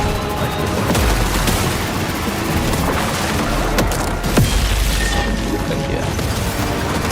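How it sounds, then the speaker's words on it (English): A grenade detonates amid a dense, continuous barrage of gunfire and booming blasts in the Painkiller demo, a single sharp crack standing out partway through the loud, chaotic battle noise. "This also has a grenade."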